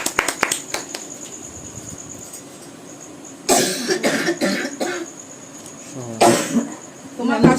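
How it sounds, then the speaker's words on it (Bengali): A person coughs in a series of harsh, close bursts, a group near the middle and another later, with a few scattered clicks early on and quiet room air between. "তোমার কাশি হয়েছে গো?"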